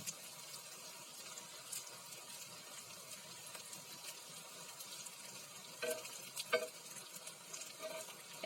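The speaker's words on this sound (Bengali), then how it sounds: "এক পিঠ ভালো মতো ভেজে নেব।" Noodle pakora fries in hot oil, a soft steady sizzle close by with a few louder bubbling crackles toward the end, quiet overall.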